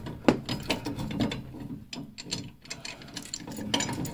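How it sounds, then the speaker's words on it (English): A small pipe wrench tightening a boiler pressure relief valve, giving a run of close ratcheting metal clicks and scrapes in uneven bursts with no talk. "Grab my little pipe wrench just to get it a little tighter."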